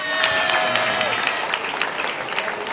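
An audience applauds as nominees are announced at the 2018 Vodafone Ghana Music Awards, a dense, sustained wash of clapping from a large crowd with a few scattered shouts mixed in.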